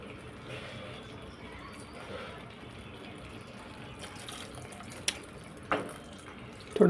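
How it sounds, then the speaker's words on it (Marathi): A little water added to a pan of tomato-based red sauce while cooking pasta, a faint, soft pour under low kitchen noise, followed by a couple of sharp clinks near the end. "थोडं पाणी घालते."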